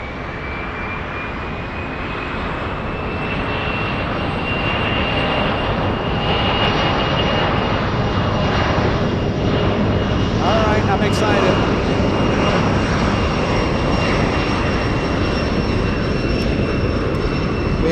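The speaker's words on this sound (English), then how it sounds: "777 cargo powered by GE90s departing on the ones" A Boeing 777 freighter with GE90 engines departs San Francisco International, its broad steady jet roar building from the start and holding loud and continuous throughout, with a faint whine layered on top and people talking under it.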